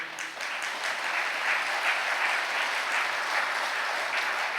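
A crowd at a Catholic priest's talk claps with raised hands in an even, sustained round, the clapping moderately loud and uninterrupted, with no speaking over it.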